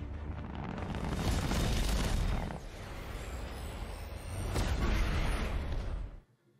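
A railgun fires in a sci-fi space battle from The Expanse, a deep, heavy rumbling boom that swells, eases off and swells again before cutting off abruptly.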